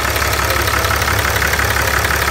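A Cummins 6.7 diesel engine idles after an exhaust manifold repair, a loud, steady close-up clatter with a rapid, even knocking rhythm and no voices.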